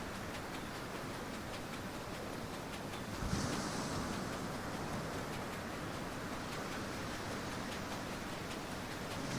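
A sailing boat on open water in the video game Ylands, with a steady broad rush of wind and water that swells briefly partway through and otherwise holds constant.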